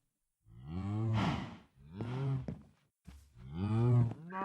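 Three drawn-out Minecraft cow moos, one after another with short pauses, loud and close with no other sounds around them.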